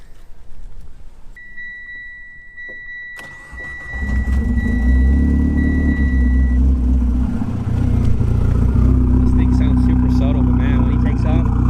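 A Mitsubishi Evo X engine cranks and catches with a loud roar after a few seconds of quiet and a faint beeping tone, then settles into a steady, rumbling idle.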